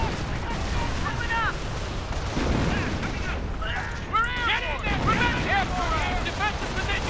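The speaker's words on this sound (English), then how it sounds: "Wow, that artillery was definitely danger close." Artillery fire in the World War II strategy game Company of Heroes during the defense of Carentan, repeated heavy booms and shell whistles over continuous battle din, with a voice talking over the fighting.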